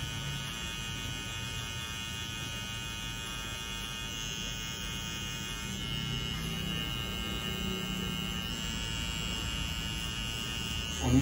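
A KEMEI electric hair trimmer runs continuously close by, a steady even buzzing hum with a slight rise in intensity partway through, no speech.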